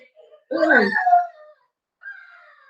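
A dog whines and howls while tussling with a child at home, one drawn-out wavering howl followed after a pause by a thinner whine, both loud and close.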